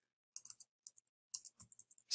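A computer keyboard is typed on in short, irregular bursts of light clicking, faint and close, with brief pauses between runs of keystrokes and no talking.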